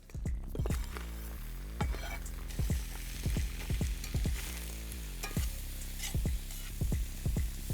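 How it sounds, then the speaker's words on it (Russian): Chopped onions frying in rendered brisket fat in a cauldron over a campfire, a steady close sizzle broken by periodic stirring clatters, no talk. "Отправляем лук в казан."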